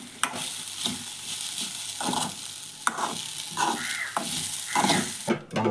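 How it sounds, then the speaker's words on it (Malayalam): Upperi, a crisp snack, being deep-fried and stirred, with a bubbling sizzle broken by several distinct scraping stirs at uneven intervals, close and moderately loud without any talk. "നന്നായിട്ട് വറുത്തെടുക്കും"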